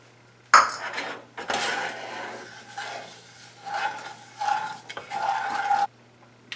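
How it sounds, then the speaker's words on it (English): A spoon scrapes and clinks around a small saucepan over medium heat, stirring milk and sugar in steady, uneven strokes, close and fairly quiet, with no voices. "Then you need a 1/4 cup of milk, 1 cup of sugar, and stir it constantly."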